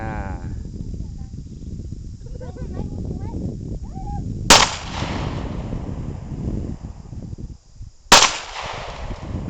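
Two sharp, loud Barrett rifle shots ring out a few seconds apart, each with a short trailing echo, while people talk before and between them.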